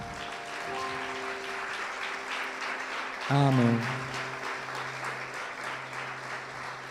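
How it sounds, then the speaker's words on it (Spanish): A church congregation claps for Jesus during a sermon, a broad, moderately loud wash of applause under a preacher's voice and a brief shout from the congregation. "¿Puede darle un aplauso a Jesús?"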